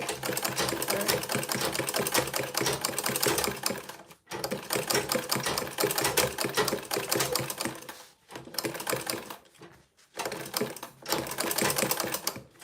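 A sewing machine stitches fabric and lining for a bag in steady, fast mechanical runs, stopping briefly between seams and starting again, close and loud with no talk over it.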